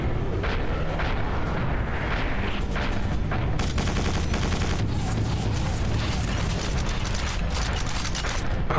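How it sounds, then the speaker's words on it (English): Loud, dense barrage of explosions and heavy gunfire during a bombing run in the game Quake 4, booming blasts and crackling impacts piling up continuously without a break. "They're trying to bomb me."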